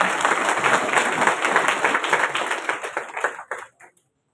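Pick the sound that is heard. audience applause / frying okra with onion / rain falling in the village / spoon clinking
audience applause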